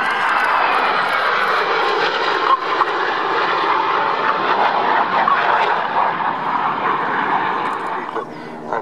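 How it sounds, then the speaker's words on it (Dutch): A twin-engine airplane flies past at the 2013 Luchtmachtdagen airshow, its engines a loud, steady drone that holds close and strong for the whole stretch, with only slight swells in level. "Het is dus een tweemotorig vliegtuig."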